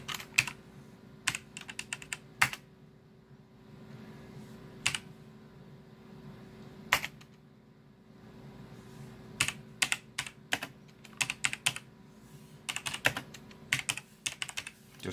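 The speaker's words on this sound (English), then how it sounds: "just gonna type some random thing in there" Computer keyboard typing comes in irregular bursts of quick clicks, close and fairly quiet over a steady low hum, with pauses between clusters of keystrokes and no voices.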